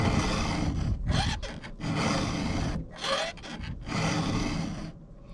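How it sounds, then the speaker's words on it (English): A sharp hand file drawn across a chainsaw chain tooth, close harsh rasping strokes in repeated bursts of roughly one second, separated by brief pauses, with no talking. "if we take this file off and put a good file on here that we know is nice and sharp"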